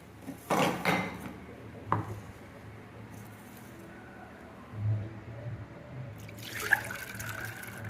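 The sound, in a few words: chana dal being washed in water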